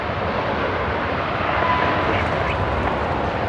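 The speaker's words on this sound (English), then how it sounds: "JetStar 566 just arriving from Melbourne" Jetstar Airbus A321neo airliner arriving at Brisbane Airport at night, heard as a steady, fairly faint broadband engine roar from a distance, unbroken through the moment with no voices over it.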